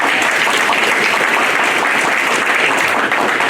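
A congregation at a youth church service claps steadily, a dense, even wash of applause from many hands filling the room, loud and uninterrupted throughout.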